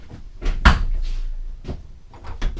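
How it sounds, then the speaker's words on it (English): Cabinet doors of a pantry linen cabinet in the bathroom of a KZ Spree 304RL rear-living travel trailer open with a sharp close knock, then softer rattles, clicks and handling bumps nearby. "to open a very nice pantry linen cabinet in the bathroom area for extra towels, washcloths, extra supplies"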